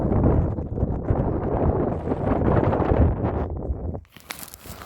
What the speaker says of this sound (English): wind's died down a little bit